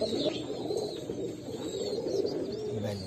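Fancy pigeons cooing softly in repeated low murmuring phrases, close by, with a faint chirp near the end.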